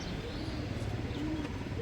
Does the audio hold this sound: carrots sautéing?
no